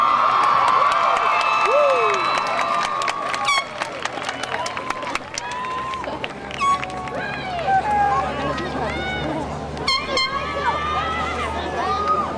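A large outdoor crowd at a graduation ceremony on a football field cheers and shouts continuously, with whistles and excited voices rising over a steady roar of noise.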